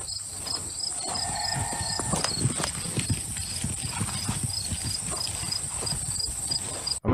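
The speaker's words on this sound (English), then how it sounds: "the horses are acting weird" Horses at night caught on a security camera: steady hoof clip-clop and shuffling under constant insect chirring, with a short tonal call near the start.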